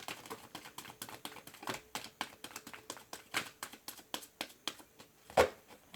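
Tarot cards being shuffled by hand, a quick series of soft riffling snaps and flicks close by, ending with a sharper tap.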